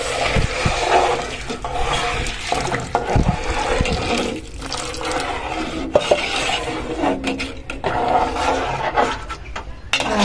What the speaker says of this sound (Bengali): তো পানিটাও ঢেলে দিই।